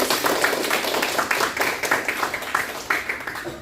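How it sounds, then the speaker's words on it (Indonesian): Students in a biology classroom clapping together, a loud, close burst of many hands with a roughly rhythmic, uneven patter that continues steadily. "Tepuk tangan untuk kita semua."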